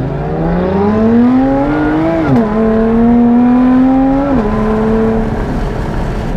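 A Lotus Evora 400 engine drones loud and steady from inside the car while driving, its pitch climbing gradually, dipping sharply at two gear changes, then rising again.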